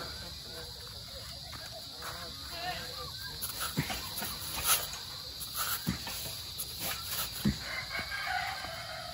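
A turkey chases a goose in a farmyard, with scattered poultry squawks and clucks, fairly close, over a person talking.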